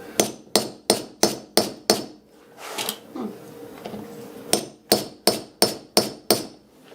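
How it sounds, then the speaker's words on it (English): Metal is hammered down with a tool while a firewood carrier is made: a run of about six sharp, ringing strikes, a pause filled with softer handling noise, then another steady burst of about six close, loud blows. "Then he does like to hammer it down"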